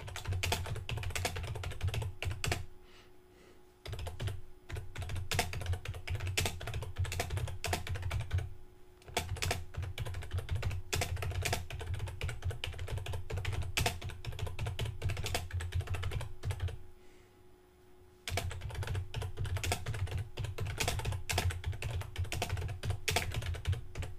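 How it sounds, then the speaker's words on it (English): Rapid, continuous typing on a computer keyboard while entering a text block for a WordPress page, close and fairly loud, with dense key clatter broken by a few brief pauses and no speech. "I'm going to come down and type in my next text block"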